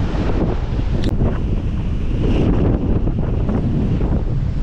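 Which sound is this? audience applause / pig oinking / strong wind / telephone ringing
strong wind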